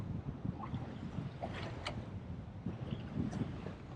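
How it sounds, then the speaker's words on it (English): Wind buffets a small fishing boat at sea, out fishing for King George whiting, a constant low roar of gusts rushing over the microphone with faint water and hull noises, no voices. "Bloody windy."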